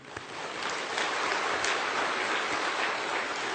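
A church congregation applauds during a Sunday sermon, a dense, steady wash of many hands clapping at once, sustained and fairly loud throughout with no voices rising above it.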